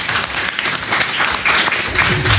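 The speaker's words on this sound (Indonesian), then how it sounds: "tepuk tangannya dong." Audience applause at a student council candidate debate at a vocational high school, a steady wash of clapping from the crowd with a voice briefly audible over it.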